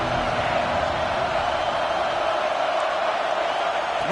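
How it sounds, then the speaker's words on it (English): Football stadium crowd roaring steadily to rally its defense, a dense, loud wash of cheering and shouting that holds at a constant level from start to finish. "This crowd rising up, sensing that its defense needs some help."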